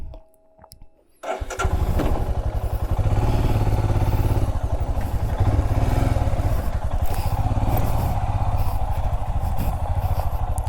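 A motorcycle with ABS switched off starts up and runs steadily nearby on an open playground, its engine loud and continuous after a short quiet lead-in, with no talking.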